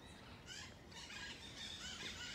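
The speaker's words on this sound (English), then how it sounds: "I have parrots singing in the trees this morning." Parrots calling from trees at dawn, a scatter of faint, distant squeals and squawks over steady outdoor background noise.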